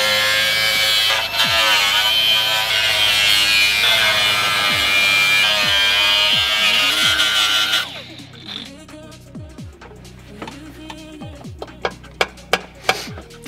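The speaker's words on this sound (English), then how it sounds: "So what we're going to use is a grinding disc, which is kind of the size of a cut-off wheel." A grinding disc about the size of a cut-off wheel works on the rotten body of a BMW E46 M3. It whines loudly and steadily for about eight seconds, then spins down, followed by knocks and clatter.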